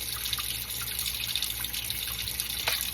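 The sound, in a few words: rinsing a coffee maker part under running tap water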